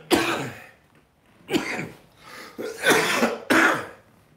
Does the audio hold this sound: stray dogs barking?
no